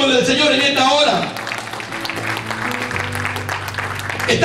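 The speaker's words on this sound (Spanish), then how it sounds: "Denle ese aplauso al nombre del Señor en esta hora." A church congregation claps and applauds together during a service, a dense wash of clapping that fades under a preacher's voice and music continuing over it.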